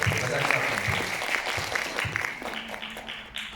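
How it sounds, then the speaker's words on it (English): An audience at a speaking event gives a round of applause, dense and fairly loud at first, thinning gradually over a few seconds with some voices mixed in. "Let's give a round of applause first before I answer."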